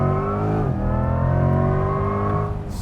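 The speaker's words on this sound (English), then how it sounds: "Yes, Yuri, just floor it again for me" A Chevrolet Corvette C8 E-Ray hybrid accelerates at full throttle, its engine note rising steadily and loudly from up close before easing off at the end.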